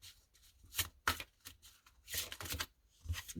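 Tarot cards are shuffled and drawn in several quick riffling bursts separated by short pauses, close but fairly quiet, with no talking.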